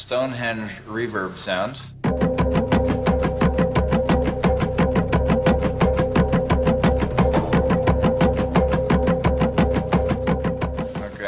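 A drum rhythm tied to Stonehenge plays back from a recording in a listening experiment. After a short stretch of speech, a fast, even train of drumbeats runs steadily and loudly for about nine seconds.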